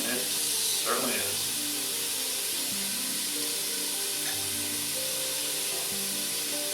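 Chopped onion sizzles in a hot soup pot, a loud, steady frying hiss that keeps going without a break. A voice speaks briefly over it.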